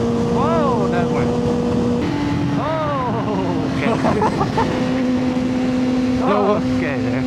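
Kawasaki ZX6R motorcycles ridden together on the road: engine tones rise and fall through repeated revs and gear changes over constant loud wind rush, with voices talking over it.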